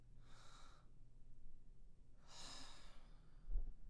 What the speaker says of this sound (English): Go ahead, breathe with me.